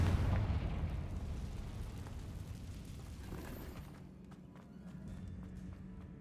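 Confringo blasting spell detonating in the Hogwarts Legacy video game, a loud booming burst at the start that rumbles and fades away over several seconds, with no talking.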